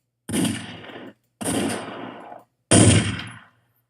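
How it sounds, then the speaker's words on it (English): Three separate gun blast samples from a Tri-Sample effects pack, each a loud sharp bang with a decaying tail of about a second, spaced apart and heard alone. "I'll give you that gun blast."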